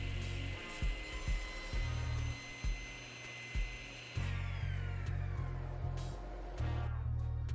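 A table saw with a sled cuts joints in walnut, its motor droning loudly and steadily while repeated thumps and knocks of wood on wood punctuate the run, with a rising change in tone partway through.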